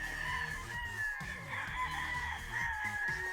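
A Thompson White straight-comb rooster crows loudly and clearly nearby, while other chickens cluck around it in a farm pen.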